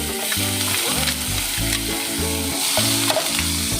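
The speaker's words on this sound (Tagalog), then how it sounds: "And then, tuloy na natin yung ating garlic." Garlic drops into hot cooking oil for a sweet and sour tilapia escabeche and sizzles loudly and steadily up close. The frying crackle carries repeated stirring or scraping strokes, with no voices.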